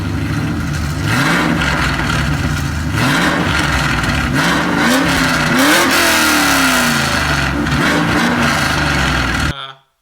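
A car fitted with a Borla exhaust, headers and an aftermarket intake revs repeatedly, loud and close, its engine note climbing and falling in several pulls over a constant rumble before cutting off.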